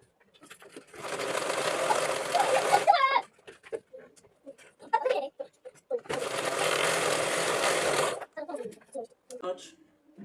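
A sewing machine stitching a toddler playsuit runs in two steady whirring bursts of a few seconds each, close by, with a voice talking in the pauses between runs.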